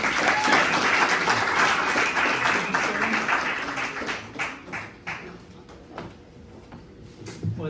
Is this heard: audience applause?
yes